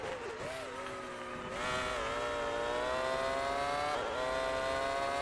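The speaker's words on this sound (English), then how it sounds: "Let's listen to the rhythm of my revs." Formula One race car engine from the 2002 Formula One video game revving high and steady, a loud whining multi-harmonic drone with pitch dips around gear shifts, close and continuous.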